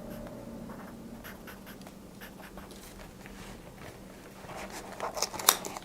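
Pen writing by hand on a paper garden base plan, soft scratchy strokes in short irregular bursts, close and quiet, ending with a few sharper taps and rustles.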